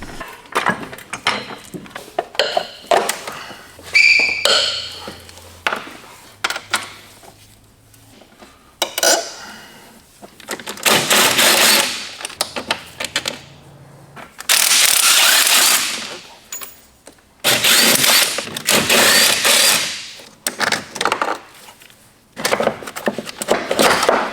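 A power tool zips off two transmission bolts during engine mount work on a car in a home garage, giving several loud rattling bursts separated by pauses, with metallic clanks in between.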